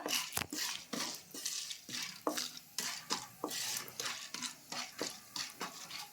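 A utensil stirs popcorn corn kernels in hot oil in a pan, giving rhythmic scraping and clinking strokes over a light sizzle. The sound is close but quiet, with no talking.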